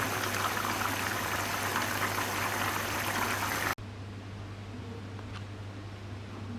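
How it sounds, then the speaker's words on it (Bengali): A pot of fish stew with bitter gourd boils steadily, a continuous bubbling, hissing simmer with a low hum beneath, dropping to a quieter simmer after a sudden cut midway. "খুব ভালো মতো বলক ওঠা পর্যন্ত অপেক্ষা করব"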